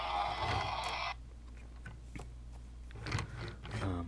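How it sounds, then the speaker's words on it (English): A Transformers Animated Ultra Magnus leader-class toy triggered by its side button gives a loud, dense electronic laser effect for about a second, followed by quieter clicks and handling noises, then a few shorter buzzing electronic bursts near the end. "when you push that, that's what fires the LEDs and makes the laser noises"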